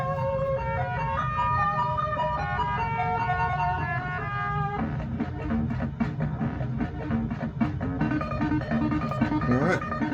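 Repaired Commodore 64 playing program audio, a busy synthesized chiptune with stepping bleepy melody lines and a steady bass pattern, fairly loud and continuous throughout.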